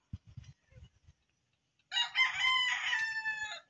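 A bulik gamefowl rooster crows once, loud and close, after a few soft scattered knocks and rustles, its long harmonic call carrying through to the end.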